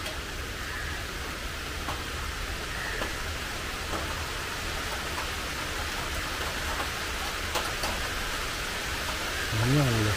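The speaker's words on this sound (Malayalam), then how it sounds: "മഴയുടെ ശബ്ദം" Steady rain falls throughout as a continuous wash of hiss at even level, with no clear breaks and a brief low thump near the end.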